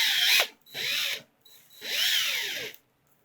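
A handheld power drill spins to wrap wire for an end-fed half-wave (EFHW) HF antenna, whining up and down in three separate bursts, the last one longest, with short quiet gaps between.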